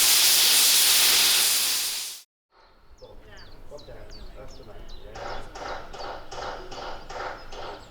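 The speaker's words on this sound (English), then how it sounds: "boiler pressure had risen to 200 psi and the first safety valve had blown off, as planned" A steam locomotive boiler's safety valve blows off at 200 psi with a loud, steady roaring hiss that cuts off abruptly, followed by quieter clicking and shuffling activity.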